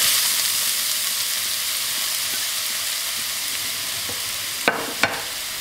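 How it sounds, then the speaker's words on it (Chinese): Grated carrot shreds stir-fried in a pan with a little oil, a steady soft sizzle running throughout, with two sharp clicks of a utensil against the pan near the end. "放入我们擦好的胡萝卜丝"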